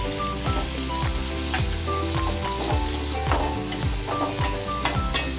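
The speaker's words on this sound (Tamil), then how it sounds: "அவரைக்கொட்டை நல்லா வதங்கிடுச்சு. இப்போ அது கூட தக்காளி போட்டுக்கிறேன்." Field beans and tomato cooking together in a pan for Bangalore-style upma, giving a loud, continuous close sizzle with repeated sweeping scrapes of a ladle and no talking.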